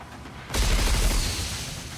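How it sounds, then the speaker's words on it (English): A volley of missiles slams into Behemoth in the game Nikke, setting off a sudden loud, booming explosion that rumbles and fades over a second or so. "Vessi fires a volley of missiles, which slam directly into Behemoth. A massive explosion rocks the area"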